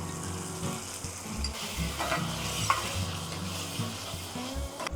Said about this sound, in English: Mix together until the raw tomato flavor will go